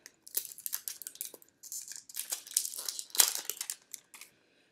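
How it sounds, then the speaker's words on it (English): A toy's crinkly plastic packaging is torn open and crumpled up close in quick, irregular bursts of sharp rustling, with no one talking. "Getting a little too crazy with my unwrapping here."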